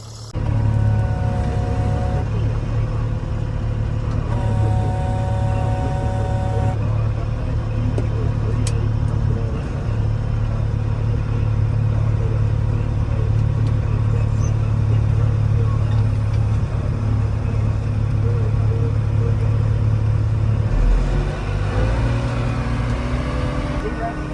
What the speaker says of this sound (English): about to jump on this tractor, do some raking, and let's get going